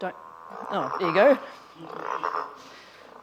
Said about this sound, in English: growler calls in amongst a cacophony of other frog calls and birds and things